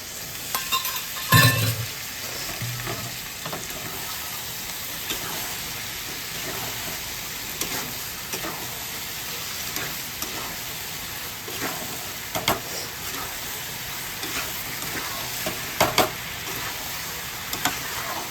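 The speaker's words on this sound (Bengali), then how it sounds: "একটু জল দিয়ে দিলাম বাটিটা ধুয়ে।" Home-made chicken chilli frying in a pan after a splash of water is added, with a loud burst of sizzle at the start, then a steady hiss and scattered spoon scrapes and taps, close and without talk.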